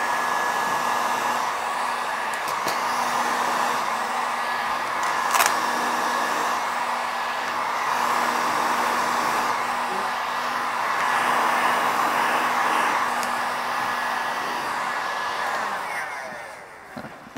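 A heat gun blows hot air steadily onto Surfex interior film while it is wrapped around the edge of a kitchen cupboard door. The blowing stays constant and close for most of the clip, then tails off at the end.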